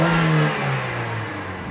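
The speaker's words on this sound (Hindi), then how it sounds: "गाड़ी को मैं रेस करूँगा" A Suzuki car engine running on CNG revs hard under acceleration, with a loud, close, steady mechanical drone whose pitch sags slightly as it holds and no talking over it.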